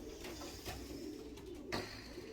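Racing pigeons cooing in their loft, soft low calls with a few brief bursts over a constant faint background.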